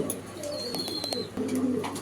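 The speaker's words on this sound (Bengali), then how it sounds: "এই যে টিউলিপ কবুতরগুলো দেখাইছিলাম সেই কবুতরগুলো কিন্তু খাবার খাচ্ছে" Tulip pigeons feeding, with soft low cooing repeated a few times over a steady background hum and faint chirps, nearby and moderately quiet.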